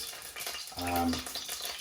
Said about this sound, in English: And just frying them in that oil